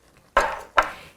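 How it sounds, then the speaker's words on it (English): A spoon working through 4 ounces of cream cheese in a pot of creamy Cajun chicken pasta gives two close, soft scraping clatters against the pot, each one sharp at the start and then fading, with quiet between them. "I'm kind of breaking up the cream cheese into little tiny chunks with my spoon here"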